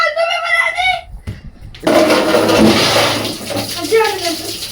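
Hot water gushes from a tap indoors, a loud steady rush following a young person's talk, with voices resuming over the flow.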